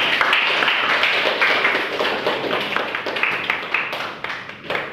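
A physics class of students claps together after a lesson on elasticity and Hooke's law, a fairly brisk patter of hands that tapers off toward the end, with faint voices mixed in.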